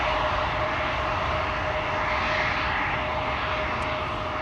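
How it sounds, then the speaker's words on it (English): An Embraer 175 regional jet at Schiphol Airport gives a steady, continuous engine roar and whine at moderate distance under an overcast sky, unchanging throughout, with no voices. "Embraer 175 to Gdansk, flight 1305, and another Embraer 175 over here"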